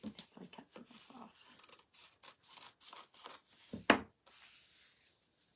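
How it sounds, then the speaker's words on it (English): Scissors snip through craft paper in a crafting session, a run of short crisp cuts near the mic with one sharper louder snip, followed by quieter rustling. "Okay, so I cut all this off."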